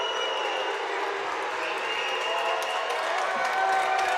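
A home crowd at a girls' state semifinal basketball game in a gym gives off a steady, loud roar of applause and chatter, with announcer commentary over it.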